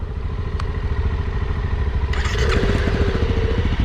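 Motorcycles, just repaired, idle and rev nearby with a loud, continuous engine rumble and rattling clatter, the throttle rising in a sharper burst partway through.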